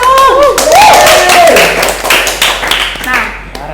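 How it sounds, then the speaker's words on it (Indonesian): A handful of close claps for a guest on a casual Indonesian podcast, sharp and uneven, mixed with voices and laughter from the hosts. "Asik, tepuk tangan dong!"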